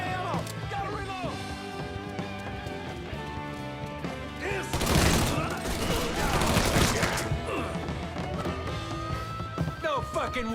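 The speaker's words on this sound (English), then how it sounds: "He's gunning us down!" A loud burst of rapid, sustained gunfire erupts mid-scene in Mafia III, crashing over a backdrop of dramatic music and shouting voices before settling back under the score.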